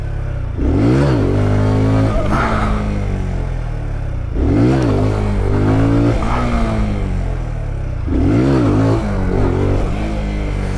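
A Honda Grom motorcycle riding in first gear, its engine revving up and easing off in three repeated surges, close and loud with a buzzy, rising and falling tone and wind rumble underneath.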